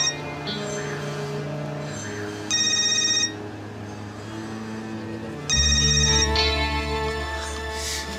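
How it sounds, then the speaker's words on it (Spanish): A telephone rings with an incoming call, giving two bursts of an electronic ringtone over low background sound, the second burst louder and longer. "Está llamando. No contestes."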